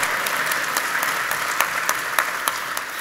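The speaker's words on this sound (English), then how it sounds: "Give yourselves a cheer. And a clap, come on" A conference audience at a Christian fundraising talk claps steadily, a dense wash of hand claps with a few sharper individual claps standing out, and no voices.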